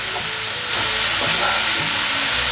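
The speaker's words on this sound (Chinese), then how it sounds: "豆干也一起放进来，赶快翻炒。" Taro filling with diced dried tofu and enoki mushrooms stir-fried in a wok, a steady close sizzle and hiss with scraping spatula turns and rustling ingredients throughout.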